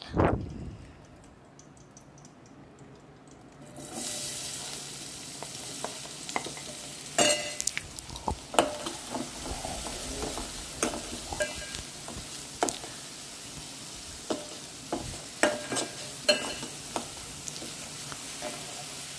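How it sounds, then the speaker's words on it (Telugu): Chopped onions and green chillies hit a pan of hot oil after a quiet start, then sizzle and crackle steadily with frequent sharp stirring clicks and scrapes from a utensil, close and fairly soft, with no speech. "కోసి పెట్టుకున్న ఉల్లిపాయలు పచ్చిమిరకాయలని వేసి వేయించుకోవాలి"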